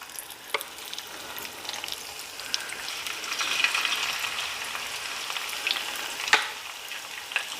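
Rolled flautas fry in hot oil at about 350 degrees, giving a soft, continuous bubbling sizzle that swells slightly midway, with a few small pops and clicks close by and no talking.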